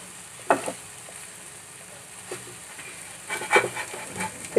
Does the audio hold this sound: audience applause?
no